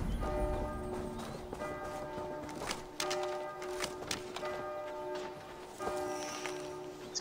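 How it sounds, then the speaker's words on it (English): In Assassin's Creed Valhalla, bells ring with sustained, layered tones during a monastery raid, mixed with rhythmic clip-clop hoofbeats and occasional sharp clanks. "Bells are ringing"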